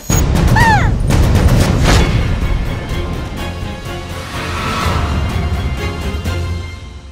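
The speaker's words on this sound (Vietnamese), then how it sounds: "Anh cầm lấy, cho nổ pháo nhanh lên." Firecrackers set off at a homecoming, bursting in a loud, dense, continuous crackle of overlapping bangs for several seconds, with a brief whistling tone near the start.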